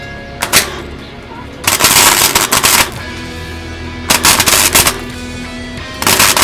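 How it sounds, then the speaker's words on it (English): A wire welder set to low power and slow wire speed welds thin steel in short bursts, each a loud, rapid crackling buzz lasting about a second. Quiet gaps separate the bursts. "So I'm just going to weld those together now."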